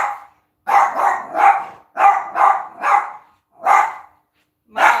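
Dog barks sharply and close in a quick run of about seven loud barks with short gaps, indoors, with no talk over them.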